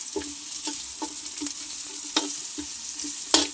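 Chopped onion sizzling with fresh garlic in a hot pan, a steady frying hiss broken by repeated clacks of a spatula stirring, up close with no talking.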